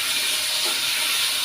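Chopped onions and potatoes sizzle in a hot pan, giving a steady, even hiss that fills the whole short moment without pause.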